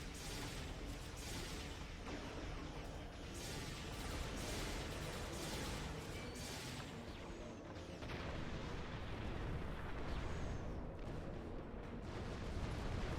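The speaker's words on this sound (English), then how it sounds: "get them with the front cannons because of this tractor beam." Starship front cannons fire in the Star Trek Online space game as a dense, continuous barrage of booming bursts, steady and fairly faint, with no speech over it.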